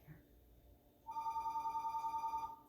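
A telephone starts ringing partway through, a steady warbling electronic ring pulsing in a fast rhythm at moderate loudness, with quiet room noise before it.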